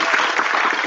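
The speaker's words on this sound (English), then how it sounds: "Please give them another round of applause." Dense, steady applause from the audience fills the hall at an English-category debate final, a continuous wash of many hands clapping throughout with no voices over it.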